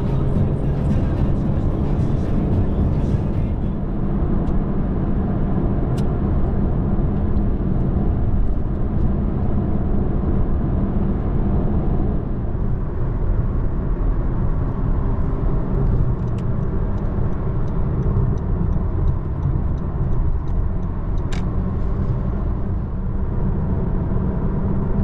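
Honda Civic FC5 Eco Elegance running on LPG, driving a mountain road near Pozantı, with steady loud road and engine rumble throughout, no talking.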